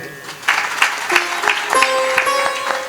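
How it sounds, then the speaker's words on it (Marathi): A short burst of audience applause for a keyboard accompanist at a devotional katha gathering, a dense crowd clatter of hand claps, moderately loud and fairly close. "त्यांच्यासाठी छान टाळी होऊ द्या"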